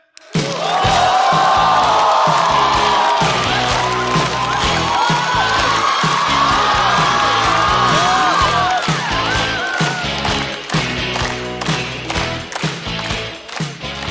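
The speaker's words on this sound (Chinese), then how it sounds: "掌声欢迎电竞解说管泽元。" A stand-up comedy show audience applauds and cheers to welcome an esports commentator contestant onto the stage: dense, loud crowd clapping with whoops and music, sustained for the full stretch.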